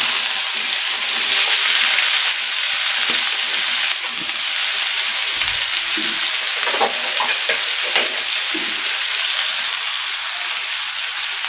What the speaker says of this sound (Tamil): இப்போ இதை நல்லா ஃப்ரை பண்ணிக்கலாம்.